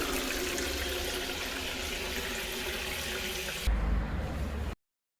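Water pours steadily from a kitchen sink tap in a close, even rush that shifts briefly near the end and then cuts off abruptly.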